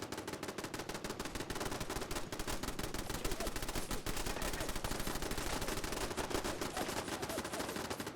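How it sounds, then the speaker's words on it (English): Rapid, continuous gunfire in Fallout 4, a dense stream of crackling shots and bursts rattling steadily for several seconds at moderate volume, with no pauses. "Who is shooting?"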